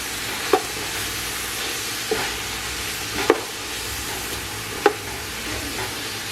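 Cheese tortellini soup ingredients with mushrooms are stirred in a pot over a steady hiss and sizzle, a spoon clacking against the side four times at uneven intervals.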